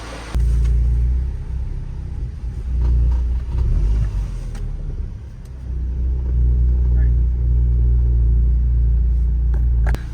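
A newly built car backs out on its first test drive, a deep steady engine rumble heard from inside, with brief rises in revs and a few small knocks.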